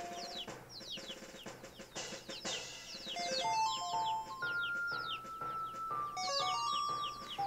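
Video-game chickens in Zelda: Majora's Mask 3D cluck in quick, chirpy bursts, mixed with bright melodic game music and jingling tones throughout.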